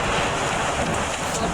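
Heavy rain and rushing water fill a video game scene with a dense, continuous hiss that stays loud and even throughout the short stretch, with no talking.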